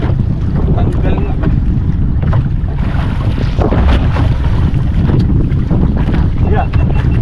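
Strong, steady wind roars across the microphone at sea on a slow pitch jigging fishing trip, with a constant low rumble of water and boat noise throughout.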